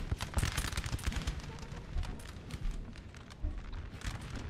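Massed musket volleys from troops on a hill firing downward in the Napoleonic Total War 3 battle, a steady crackle of many overlapping shots rolling on irregularly, moderately distant and dense, without any speech.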